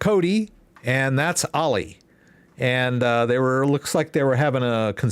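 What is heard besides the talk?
No everyday noises stand out.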